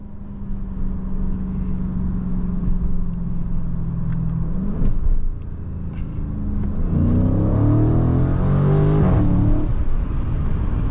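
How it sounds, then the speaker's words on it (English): A Dodge Charger Scat Pack widebody on upgraded 315 tires accelerates at full throttle, its engine note climbing steadily in pitch with a brief dip at a shift before rising again loud and close, heard from inside the cabin with rear windows down. "I'm literally full throttle in the car. No spinning whatsoever."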